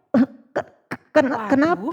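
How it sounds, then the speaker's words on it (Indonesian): Three short, sharp coughs in quick succession, followed by a voice speaking briefly. "Siapa yang batuk-batuk?"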